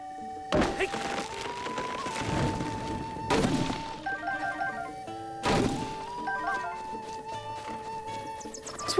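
Axe chops on wood in the video game Zelda Breath of the Wild, three heavy thunks spaced a few seconds apart over a steady game music bed.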